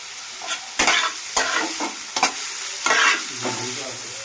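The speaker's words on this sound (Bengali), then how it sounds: "এবার দিয়ে দেব আদা আদা রসুনের কুচি আর দিয়ে দেব কাঁচা লঙ্কা কুচি দিয়ে এগুলোকে ভালো করে কষিয়ে নেব" Ginger, garlic and green chili sizzle and fry in a pan while a spatula stirs them in several sharp, scraping bursts over a steady background hiss, close and fairly loud.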